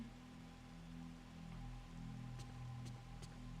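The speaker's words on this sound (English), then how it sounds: "It's raining again." Steady rain in the survival horror video game Fatal Frame III: The Tormented, a faint, continuous wash of drops with a low ambient hum beneath and a few soft, brief ticks near the end.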